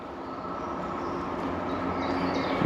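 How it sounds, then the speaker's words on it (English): Passenger train passing through King's Sutton Junction on a line shared by Great Western and Chiltern services, a steady rumbling roar that builds slightly in loudness throughout, with no voices. "and the train coming through"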